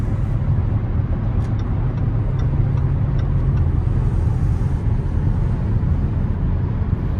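A 2015 Jaguar XJL with a supercharged V8 cruising at 75 mph, heard from inside as a steady, loud low road and engine rumble that holds evenly throughout without a break.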